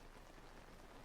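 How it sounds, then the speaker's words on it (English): Steady rain falling in the video game Zelda: Tears of the Kingdom, a soft, even hiss of drops on surfaces filling the whole moment without pauses. "Raining."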